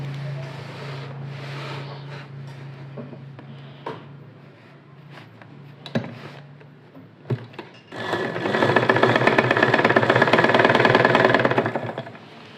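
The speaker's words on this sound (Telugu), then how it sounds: "ఇలా పైన ఒక స్టిచ్చింగ్ లైన్ అనేది చేసుకోవాలి" A sewing machine runs a stitching line along the folded hem of lined trousers being shortened, its dense, steady whir rising loudly in the latter half after quieter handling and a few light clicks.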